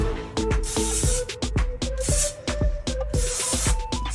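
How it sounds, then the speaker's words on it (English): Redken dry texture finishing spray misted onto hair in quick repeated bursts, each short hissing puff close and fairly loud, separated by brief clicks of the nozzle. "So I'm just gonna give it a nice spray."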